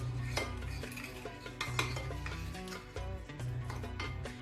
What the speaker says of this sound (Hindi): इन सारी चीज़ों को हम मिक्स करेंगे अच्छी तरह।